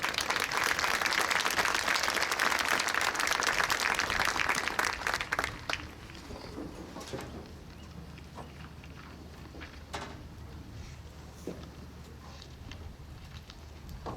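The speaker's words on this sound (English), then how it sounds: "Please give our staff a round of applause" Graduation crowd in a football stadium applauds the staff, a loud dense wash of clapping for about five seconds that then fades to scattered claps and open outdoor ambience.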